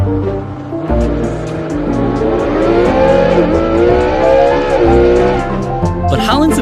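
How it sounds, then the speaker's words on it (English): A powerful sports car engine revs up loudly and close, climbing and falling in pitch twice before easing off, with a sharp burst at the end. "his whip not only looked crazy, it had the biggest engine out of any car on our list so far"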